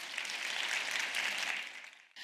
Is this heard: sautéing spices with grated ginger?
no